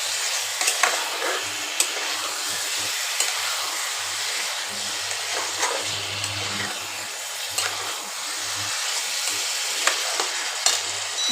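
Potatoes and chicken are sautéed in a pan for a Bengali chicken dish. A continuous close sizzle runs throughout, broken by occasional scrapes and clicks from stirring.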